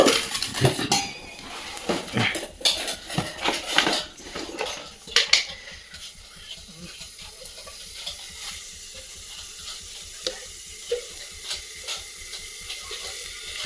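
A cooking pot set down and handled in an outdoor village kitchen while preparing fish curry, with clattering metal knocks and scrapes clustered at the start, then a quieter stretch of faint repeated tapping and light handling, no voices.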